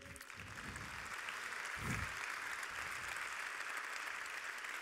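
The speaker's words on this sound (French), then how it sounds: "Je vous demande de les applaudir." Audience applause at a round-table evening event, a steady, fairly distant wash of clapping that continues throughout, with a brief low thump partway in.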